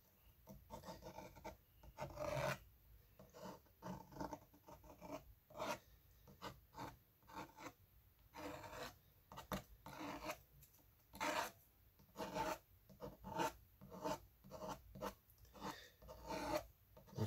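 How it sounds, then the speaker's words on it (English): Tool scraping wet watercolor paint upward along painted tree trunks on paper, short quiet rasping strokes in irregular bursts, very close and faint, with no talking. "I'm scraping along trunks and I'm actually just scraping up."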